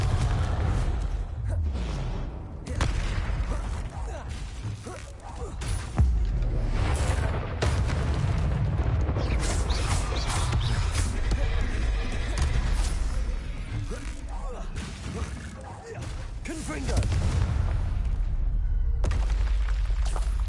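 Fire-spell blasts and explosive booms ring out in the Hogwarts Legacy game during combat, loud layered rumbles and crashes with game effects, a voice calling out briefly over the action.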